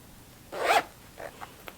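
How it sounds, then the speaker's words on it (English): A zipper is pulled open in one quick, close rasping stroke, followed by a few small clicks and ticks as the fabric settles. "you're gonna want to open the zipper halfway."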